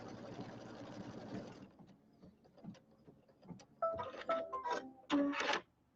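An embroidery sewing machine stitches an appliqué placement line for a penguin's head on a mug rug, in short rapid bursts of mechanical stitching with pauses between, close and moderately loud.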